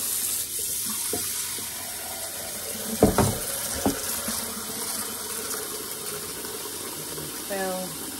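Cold water runs steadily from a tap into a kitchen sink in a continuous close hiss, with a few clunks and knocks partway through and a brief squeak near the end.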